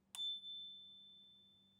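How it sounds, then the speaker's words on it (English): A single light ding from the small handlebar bell on a Mokwheel Flint Pro belt-drive e-bike, one sharp strike followed by a clear ringing tone that slowly fades over a quiet background. "It comes with this little bell."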